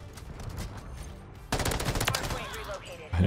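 Rapid bursts of M13B automatic rifle fire in Modern Warfare 3, a quieter stretch followed by a dense, loud rattling volley that empties quickly.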